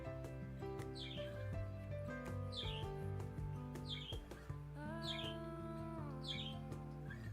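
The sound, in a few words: parakeet chirping and singing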